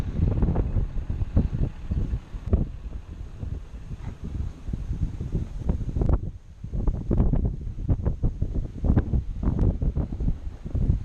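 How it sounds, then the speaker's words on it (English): Gusty wind buffets the microphone outdoors on a hay farm where large round bales are being loaded, rising and falling in low rumbling bursts with a brief lull midway. "It's a little windy"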